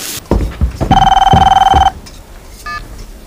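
A telephone rings indoors in a short, loud electronic burst with a trilling pulse, preceded by a few thumps and followed by a brief faint chirp.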